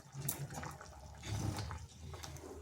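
Spinach and lentil curry boils in a pot, giving a continuous bubbling, watery churn with small pops and gurgles throughout, close and moderately loud, no talk.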